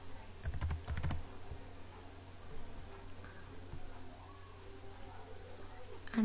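Computer keyboard typing in AutoCAD, a quick burst of close clicking keystrokes near the start followed by a few scattered taps over quiet room noise.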